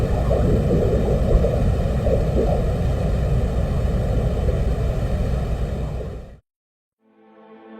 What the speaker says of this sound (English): this is what it sounds like on the surface of the planet